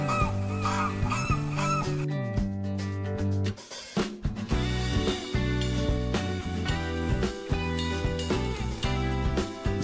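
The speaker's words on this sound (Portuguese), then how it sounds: "Ganso." Honking goose calls accompany a toy goose shown while animal names are taught, heard in short bursts under loud, upbeat children's music.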